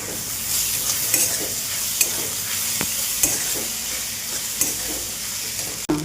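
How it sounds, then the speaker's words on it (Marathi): Crushed kurdai and onion are stir-fried in a pan, giving a constant sizzle under repeated spatula scrapes and knocks against the metal, with a sharper clack near the end and no speech. "असं आता परतून घेऊ"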